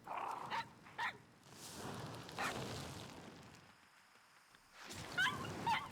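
A corgi battle pet in a pet battle video game barks in a few short, sharp bursts over busy game effects and background noise.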